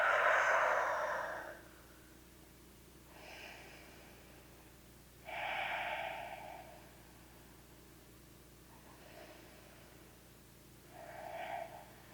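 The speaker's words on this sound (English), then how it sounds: "let's just take a few deep breaths" Slow, deep breaths during a workout cool-down, about four audible inhale-exhale cycles spaced several seconds apart, close and soft against a quiet room hum.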